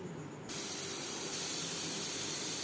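A pressure cooker holding chickpeas and potatoes lets off steam: after a half-second of quieter background, a loud, sustained hiss bursts in abruptly and holds steady, close by.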